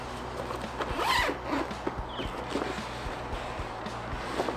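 A zipper being worked on the fabric storage bag of a 4x4 kinetic recovery rope kit, several rasping pulls in a quiet room with faint handling noises.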